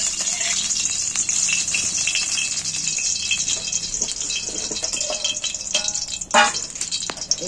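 About two spoonfuls of cooking oil heating in a wok (kadai) for frying okra, giving a steady faint hiss and crackle that runs continuously, close and even, with no talk.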